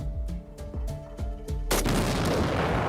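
A car explodes in a played online clip: a string of rapid gunshot-like bangs builds into a loud, sustained roaring blast that fills the rest, with no talk.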